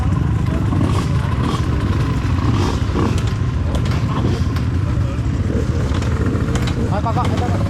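A Honda GL Pro 100cc motorcycle climbs a steep hill, its engine droning steadily and loudly under strain with some mechanical clatter, while people talk over it.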